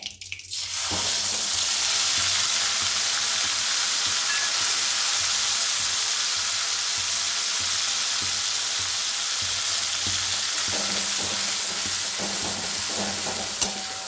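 Spices for a green peas malai sizzle steadily in hot oil in a pan, a loud continuous frying hiss with occasional soft stirring scrapes near the end.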